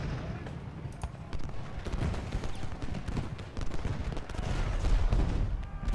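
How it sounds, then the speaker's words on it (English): Cannons fire in the Civil War battle game Ultimate General: Gettysburg, a dense stream of distant booms and crackling musketry rumbling continuously under a voice. "Okay, we got cannons firing now."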